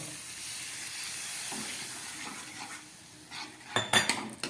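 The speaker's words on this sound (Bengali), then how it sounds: "দিয়ে দিচ্ছি জল" Water splashed into a hot pan while bhola fish with coriander leaves cooks, giving a steady close sizzling hiss, then a short burst of clattering utensils near the end.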